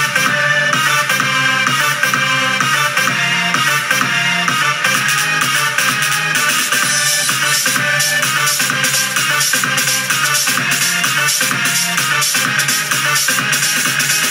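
EDM drop lead synth with a subtle chorus effect, playing a dense, bright, sustained pattern over driving beats, loud and continuous throughout with no talking.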